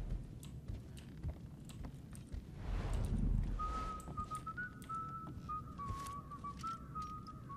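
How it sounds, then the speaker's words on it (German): A character in the stealth video game Thief whistles a tune, a clear, steady melodic line entering midway and carrying on over soft game ambience and scattered clicks. "Schönes Lied pfeift er da."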